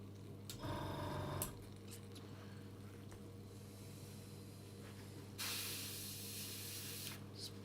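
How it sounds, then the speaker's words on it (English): Short bursts of paint spray hiss onto a paper towel in a spray booth, one early and a longer one later, against a low steady mechanical hum and faint background noise. "Spraying it through on some paper towel here to make sure it's gone all the way through."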